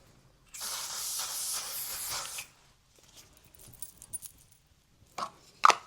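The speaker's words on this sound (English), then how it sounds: "So I'm gonna go in with my One Size Beauty setting spray." A sustained hiss of makeup setting spray on a face, about two seconds, close by, followed by quiet handling clicks and a couple of sharp taps.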